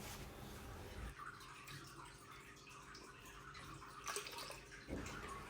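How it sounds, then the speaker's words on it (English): Melted candle wax is poured from a wax melter into a pouring pitcher, giving a soft, steady liquid pour that stays faint and continuous throughout. "get that wax out of the melter and pour it in the pouring pitcher"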